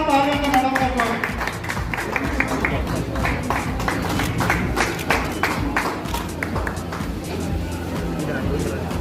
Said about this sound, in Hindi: सभी जोरदार तालियों से मैडम का स्वागत।